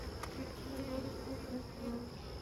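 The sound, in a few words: honeybees buzzing in a hive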